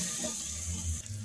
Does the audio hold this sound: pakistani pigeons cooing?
no